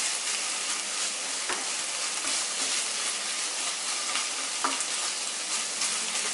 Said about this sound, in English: Going to stir up my vegetables and meat a little bit.